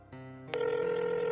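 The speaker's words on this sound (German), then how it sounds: "Das Telefon hat geklingelt." A telephone rings with a steady electronic tone that steps up in loudness partway through, heard close and alone.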